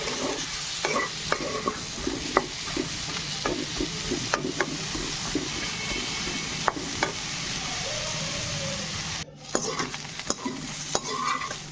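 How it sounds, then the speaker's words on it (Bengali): Eggplant fries with a little salt and turmeric in a wok, making a continuous close sizzle broken by repeated sharp scrapes and clinks of a spatula stirring. "দিয়ে বেগুনটা একটু ভাজা ভাজা করে নিতে হবে।"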